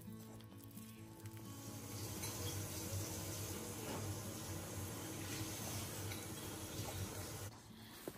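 Plain flour being kneaded by hand with a little warm water added bit by bit for rumali roti, a soft continuous wet squelching and rubbing close up that stops abruptly near the end.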